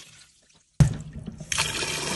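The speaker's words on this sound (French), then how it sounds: "Nous allons tout d'abord laver nos lentilles. 2 ou 3 fois, on va bien les rincer." Lentils are rinsed in water. After a near-silent start, a sudden splash comes in and gives way to a close, steady pouring and swishing of water that grows brighter and louder.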